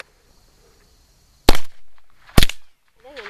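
Two sharp, loud gunshots crack about a second apart, close by, followed by a brief voice.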